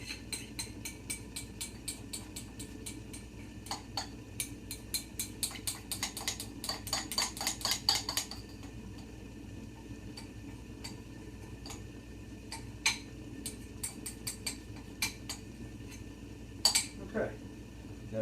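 A spoon clinks and scrapes against a pot as seasoned pasta is stirred, giving quick runs of bright metallic ticks and taps broken by short pauses, with faint low kitchen hum beneath.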